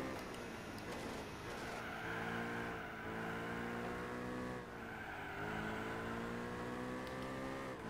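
A car engine in Gran Turismo 4 revs up and down in two long rising sweeps, loud and continuous against steady road noise, with no talking.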